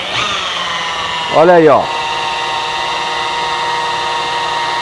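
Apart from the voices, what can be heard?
rotary polisher polishing glass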